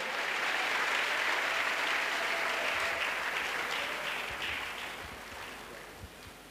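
A crowd at an evangelistic crusade claps steadily, the applause loud at first and gradually fading toward the end.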